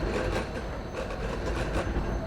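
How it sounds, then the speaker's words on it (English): An old tram rolls past close by on a city street in Ukraine, a steady low rumble of wheels on rail with faint clatter, continuous and fairly loud throughout. "Another tram is just passing by next to me."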